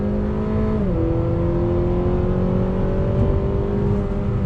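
A 2020 Acura ILX A-Spec sedan accelerates hard on the road, its engine droning steadily from inside the cabin as the DCT gearbox makes a quick shift, dropping and then rising in pitch, with no speech.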